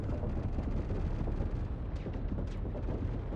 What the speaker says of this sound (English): look at those ballistics shooting at me